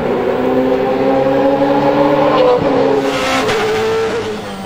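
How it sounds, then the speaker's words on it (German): A short-stroke four-valve BMW V8 race car engine with a short exhaust exiting under the sill revs up rapidly, loud and close, with a sustained rising roar and no talk. "Der kurzhubige 4-Ventil V8 dreht in BMW-typischer Manier blitzschnell hoch."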